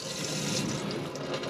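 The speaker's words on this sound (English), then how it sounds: "I just put a new tap on it, so there we go, got a nice new tap on." Water runs steadily from a newly fitted tap into a sink in a camper van, a continuous close splashing hiss with no talking.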